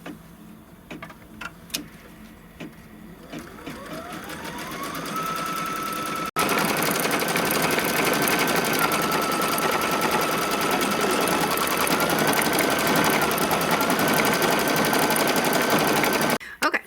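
An embroidery machine stitches a fabric tack-down over batting, its needle whirring in a fast, steady mechanical drone that ramps up from scattered clicks and runs continuously to the end.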